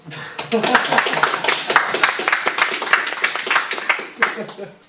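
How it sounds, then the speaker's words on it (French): A small workshop group applauds itself with close, brisk clapping from several pairs of hands, dense and fairly loud, trailing off into a few final claps. "Je pense qu'on peut s'applaudir."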